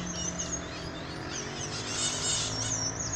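Birds sing outdoors on a morning in nature, with continuous high chirps and trills layered into a busy chorus at a moderate distance over a low steady background, and no voices.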